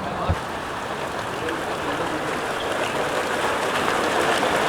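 Water runs steadily from a pipe fitted into the old Ethiq well beside an orchard, a continuous broadband rush and patter that stays close and even throughout, with no one speaking.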